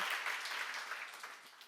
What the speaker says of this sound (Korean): 박수하자.